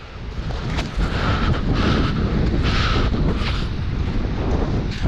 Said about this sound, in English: Side offshore wind, just a breath of wind.